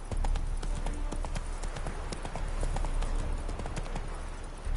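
Horse hooves clop in a steady trotting rhythm in the video game The Witcher 3 Wild Hunt on PS4 Pro, a continuous close clatter running throughout with no talk.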